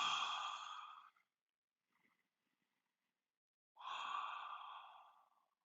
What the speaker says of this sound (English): You can even do some sea lion breath.